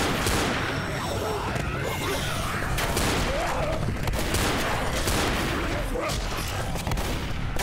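Dense, continuous gunfire from players shooting a horde of zombies in Left 4 Dead, a loud unbroken wall of shots and crashes running the whole way through.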